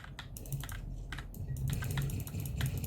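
Close, rapid typing on a Keychron K2 keyboard connected over Bluetooth: a dense run of crisp key clicks with short pauses, heard alone without talk.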